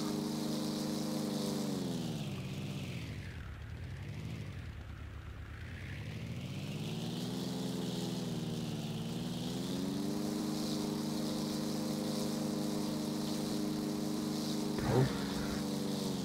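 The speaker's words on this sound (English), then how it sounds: "That plane's chewing my head in, it's so fucking loud." In the DayZ Overpoch game, a loud propeller plane drones overhead, a continuous buzzing hum whose pitch sags and then climbs back as it passes, with a brief sharp click near the end.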